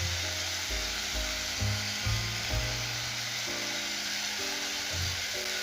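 Ginger frying in a pot for a chicken stew gives a steady, close sizzle, with soft stirring bumps at intervals and no talk.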